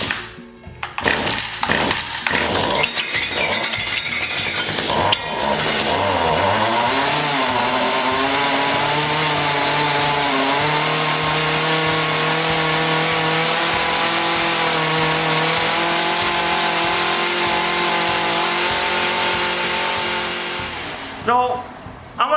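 A small mini tiller engine pulls and sputters to life, then runs steadily at a loud, even idle close by for most of the time before cutting out near the end.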